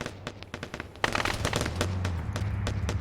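Vehicle-mounted weapon fire in a military video game, with scattered sharp shots followed by a denser rattle of rapid bursts over a low engine hum.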